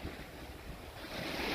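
Strong storm wind roars over the microphone alongside the wash of nearby surf, a steady, loud outdoor rush on a beach.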